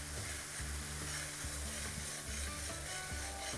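Fresh tomato puree frying and sizzling with masala and salt in a pan for Old Delhi style anda bhurji, a steady loud sizzle with rhythmic stirring scrapes throughout and no talk.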